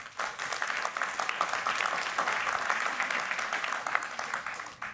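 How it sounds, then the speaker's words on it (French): A conference audience at an e-health event applauds, dense steady clapping filling the room at moderate loudness from start to finish, with no talk over it. "je vous remercie tous de les applaudir"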